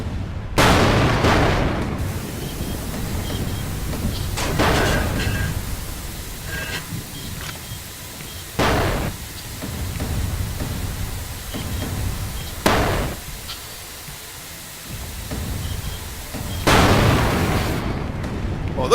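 Large warships in Space Engineers trade fire in combat, with heavy booms and blasts landing at irregular intervals over a continuous rumbling background.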